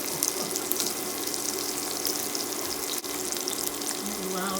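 A sirloin steak fries in a pan with a steady, close hiss and crackle of sizzling fat that keeps going without a break, with a brief soft clatter partway through.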